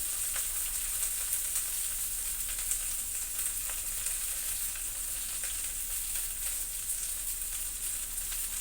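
Radhuni seeds and okra sizzle in hot oil in a wok, a constant loud hiss with faint crackles, steady and close throughout with no talking.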